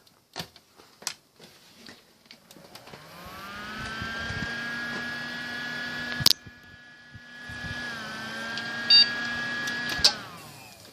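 A 92 mm computer fan spins up on a PC under checkup and runs with a steady whir and hum, starting after a few clicks and handling taps, with a couple of sharp clicks partway through.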